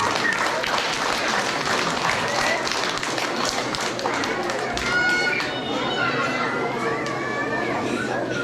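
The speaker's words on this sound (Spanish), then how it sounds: "Un aplauso, por favor." An audience at a kindergarten graduation ceremony claps in a sustained round of applause, with scattered taps, children's voices and talk mixed in throughout.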